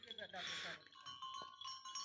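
A goat bleats once, briefly and close by, on a goat farm at Lawa, Talagang, followed by faint tonal background noise and a short click.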